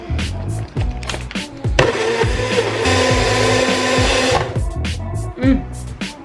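A blender whirs a breakfast quinoa smoothie in a short, loud, steady burst of a few seconds, set between voices and background music.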